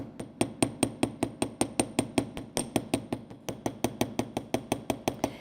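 Steady run of sharp metallic strikes from an artisan texturing hammer hitting sheet metal, about three per second in an even rhythm with one brief pause, close and loud with a ringing edge to each blow.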